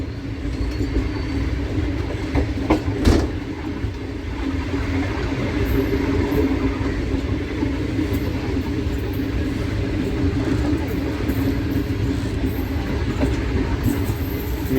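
A passenger train pulling out after an unscheduled stop at Mian Channu railway station, a loud continuous rumble of rolling wagons with a rhythmic clatter and one sharp metallic clank early on.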